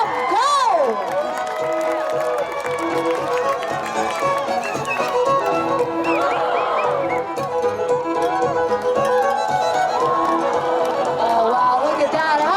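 A crowd at a lumberjack tree-climbing show cheers and shouts steadily, with excited voices, whoops and calls layered throughout, while nearby people talk over the noise.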